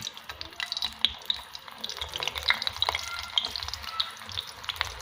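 Sliced eggplant (talong) frying in hot oil, a busy crackling sizzle with sharp pops and spits scattered throughout, steady and close, with no voices.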